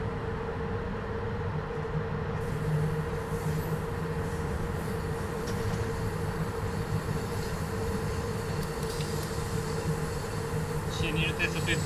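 A heavy freight train running in Train Simulator, with a steady loud rumble and rolling wheel noise throughout, a constant low drone, and faint squeals near the end.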